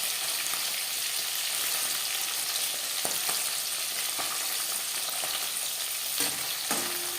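Tangra fish fry in a wok with a steady, loud hiss and crackle of hot oil, broken by a few sharp utensil taps and a scrape near the end.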